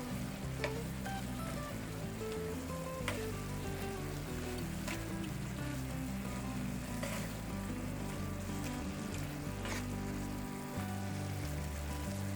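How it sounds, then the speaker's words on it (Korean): Onions stir-fry in a pan for pork kimchi, with a dense, even sizzle running throughout and occasional soft clicks and scrapes of stirring, close and continuous. "양파를 넣어주세요. 잘 볶아주세요."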